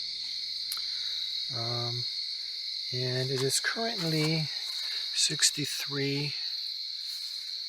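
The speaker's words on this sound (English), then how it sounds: "you can hear the noise of the cicadas and whatnots" Constant high-pitched buzzing drone of cicadas and crickets at a campsite near Buffalo Creek, Oklahoma, in the evening, steady throughout as someone talks over it.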